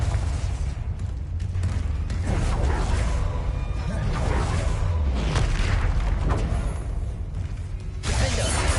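Explosive booms from the Confringo fire spell in the video game Hogwarts Legacy, heavy low rumbling blasts with whooshing debris filling the whole stretch, loud and dense with no speech.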